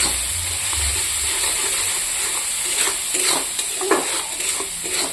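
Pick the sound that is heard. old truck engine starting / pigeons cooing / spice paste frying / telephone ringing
spice paste frying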